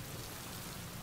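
Steady rain from a scene in the Squid Game season one finale: a dense, even hiss that is close and constant throughout the short moment, with no voices.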